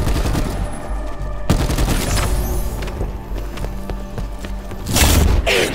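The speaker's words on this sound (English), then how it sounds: "You're a big-ass machine gun to me." Machine gun fire in the video game Call of Duty: Black Ops 4, loud rapid bursts with booming impacts, a sharp blast near the start and another heavy burst near the end, with no talking.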